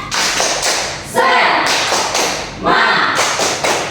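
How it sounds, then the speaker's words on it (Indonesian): A fifth-grade class performs a rhythmic spirit clap, with repeated claps and desk thumps in a quick patterned beat. The sound is loud and close, with voices mixed in. "Oke, tepuk semangat."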